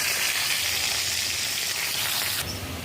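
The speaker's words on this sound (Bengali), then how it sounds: "কড়াই তেল দিয়ে দিছি, এতে গেছে দেখো পেঁয়াজ, কাঁচামরিচ, তেজপাতা আর গরম মশলা গোটা এগুলো দিয়ে দিলাম। এগুলো একটু ভাজা ভাজা করে" Onion, green chili, bay leaf and whole spices fry in hot oil in a wok, giving a steady, close, bright sizzle that softens slightly near the end, with no talking.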